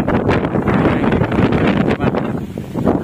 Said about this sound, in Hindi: कितना तेज हवा बह रही है देख सकते हैं